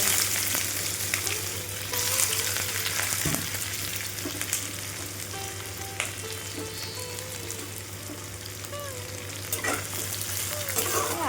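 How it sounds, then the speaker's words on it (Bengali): Whole garlic and onions frying in a pan, a loud continuous sizzle with occasional stirring scrapes over a steady low hum, close and alone without talking. "গোটা রসুনটা দিয়ে লাল লাল করে ভেজে নেব রসুন ভাজা হয়ে গেছে এখন পেঁয়াজগুলো দিয়ে দেব"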